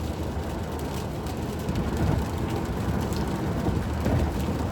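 Steady, dense rain falling with a low rumble of thunder underneath, a continuous wash of sound at constant loudness with no voices.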